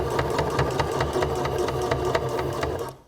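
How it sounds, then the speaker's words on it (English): A sewing machine runs steadily, stitching a fabric sleep mask with a fast, even mechanical rattle close by, then winds down and stops near the end. "And then we're going to start sewing."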